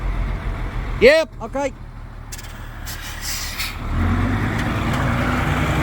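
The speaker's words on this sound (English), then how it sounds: "I'm just directing the truck." Truck maneuvering on a house construction site in Hua Hin, Thailand, its engine rumbling steadily in the background and growing louder toward the end, with brief speech near the start.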